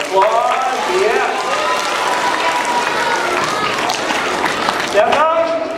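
An elementary school audience at an anti-bullying magic show claps in a steady round of applause, with children cheering and shouting throughout.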